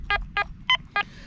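A Quest X10 Pro metal detector sounds five short, evenly spaced beeping tones over a coin, each pulse crisp and loud against a low background hum.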